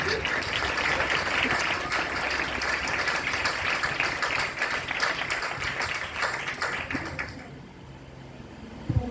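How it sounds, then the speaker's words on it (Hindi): Congregation applause in a church during a worship service, a thick wash of clapping that holds steady for several seconds and then dies away, followed by a brief quiet. "अपनी तालियों के जोर से बताइए अभी।"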